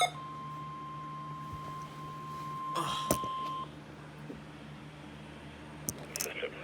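NOAA weather radio alert test tones during a required weekly test, heard as a steady faint beep tone lasting several seconds under broadcast hiss, with a few brief bursts and clicks.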